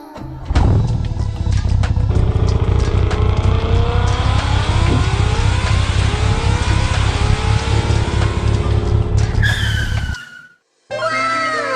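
In an animated comedy, a car drives off with a loud, steady engine roar that holds for about nine seconds, then cuts off abruptly into a brief silence.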